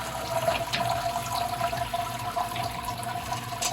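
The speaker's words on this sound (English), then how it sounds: "we're gonna let that drain for a little bit and then we'll start sparging" Brewing mash draining inside an Anvil Foundry all-in-one electric brewing system before sparging, a steady continuous trickle and gurgle of liquid running close by with no talk.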